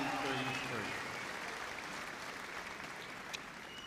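Audience applause at the Crufts 2024 Terrier Group judging, a broad wash of clapping in a large hall with someone speaking over it at the start.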